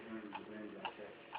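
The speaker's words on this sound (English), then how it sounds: "is that mysterious ticking noise?" A mysterious ticking noise sounds as soft, evenly spaced ticks, about one every half second, faint beneath continuous talking.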